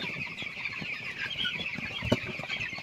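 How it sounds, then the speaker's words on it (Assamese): Several chickens cluck softly and intermittently against a busy outdoor background, with a few sharper calls standing out. "এইটো চাওক চব মুৰ্গী আহি আছে পানী খাবলৈ"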